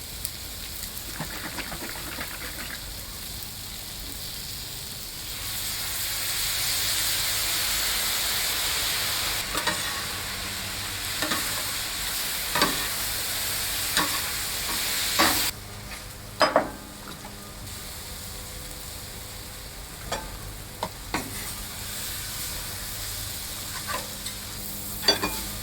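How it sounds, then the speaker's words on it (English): Hawaiian linguiça stir fry for a chicken sausage teriyaki bowl sizzles steadily on a flat-top griddle, a loud continuous hiss broken by clacks and scrapes of spatulas stirring the meat, with no talking. "We got this nice Hawaiian linguiça stir fry."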